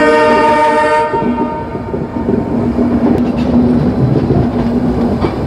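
A passenger train runs steadily, heard from inside a general second-class coach of the 15777 Dooars tourist special between NJP and New Alipurduar. A harmonic horn blast opens the clip over a dense, continuous rumble and rattle of the wheels, loud and close.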